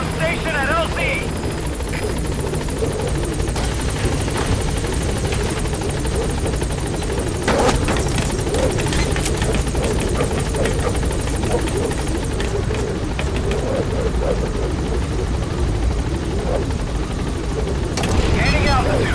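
A support helicopter in Metal Gear Solid 5 arrives at a landing zone, its loud, continuous rotor thrum and turbine buzz steady and close, with brief radio voice chatter over it.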